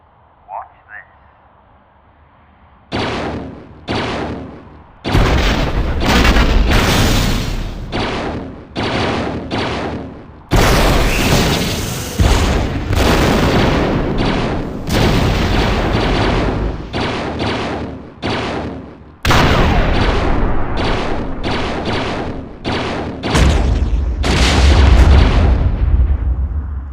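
A stormtrooper shooting at targets set up around an outdoor spot fires a rapid series of loud, close blaster bursts in clusters, with short gaps between volleys.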